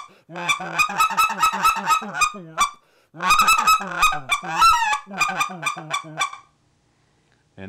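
Goose call blown to imitate geese feeding in a field with scratch clucks, giving rapid runs of sharp honking clucks in two loud bursts, close and alone.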